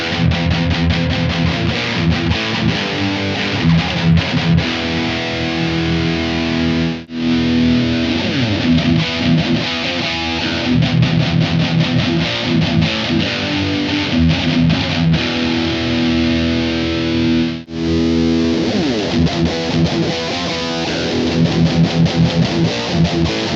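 Electric guitar played through a Blackstar Dual Distortion pedal, a loud, thick overdriven tone with chugging riffs and sustained chords, broken by two brief silent gaps, with no voice over it.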